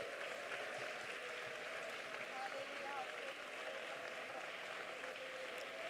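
A church congregation at Sunday worship claps hands together in a steady, dense wash of applause that carries on evenly throughout, moderately distant and blended with room murmur.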